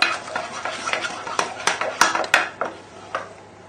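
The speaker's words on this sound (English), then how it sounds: "So just stir, stir, stir." Dough and milk being stirred in a bowl, giving a steady run of close scraping, clacking strokes against the sides, about a dozen in under four seconds, with no voices.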